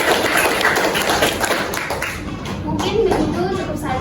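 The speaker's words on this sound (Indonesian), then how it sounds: "kita tepuk tangan bersama-sama" A university class on primary-school social studies teaching claps together in a dense, steady patter that runs the whole time, with voices mixed in.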